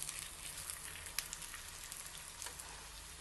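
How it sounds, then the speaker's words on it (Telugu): Garelu batter fritters frying in hot oil give a steady, dense sizzle with fine crackling pops throughout, continuous and fairly quiet, with no voices. "ఇప్పుడు దీన్ని మనం వేయించుకుందాం. బాగా వేగుతున్నాయి."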